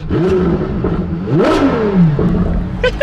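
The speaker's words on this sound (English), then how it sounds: "it revs up so quickly!" A Ferrari LaFerrari with a straight pipe exhaust revs sharply, pitch sweeping up and dropping back in quick throttle blips, loud and close.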